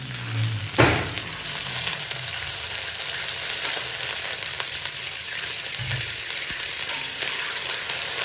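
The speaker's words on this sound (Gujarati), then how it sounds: "પછી આપણે અડદનો લોટ ઉમેરી અને હાથની મદદથી ધાબું દઈ દઈશું" Urad flour for adadiya pak roasting and being stirred in a pan, giving a steady continuous sizzle with faint scraping strokes throughout.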